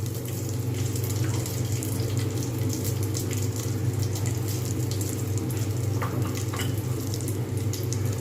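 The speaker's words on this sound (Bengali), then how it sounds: "এর মধ্যে আমি গোটা জিরে আর শুকনো লঙ্কা, কাঁচা লঙ্কা আমি ফোড়ন দিয়ে দেবো।" Whole cumin seeds with dried and green chillies temper in hot oil inside a pressure cooker, giving a constant, dense sizzling hiss with a few faint crackles, close by and with no talking.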